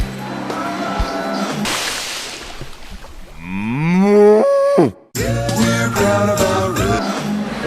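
Cows moo repeatedly in a rotary milking parlor, loud drawn-out lowing calls overlapping one another with a short break before more mooing resumes amid barn noise.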